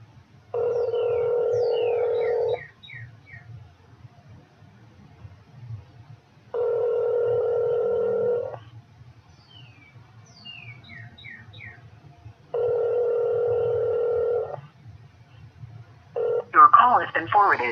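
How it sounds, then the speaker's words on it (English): A phone call being placed from a handset: three long steady ringback tones about two seconds each, separated by pauses with faint chirps and background hum, then a burst at the end as the line picks up. "let me go ahead and give this guy a call"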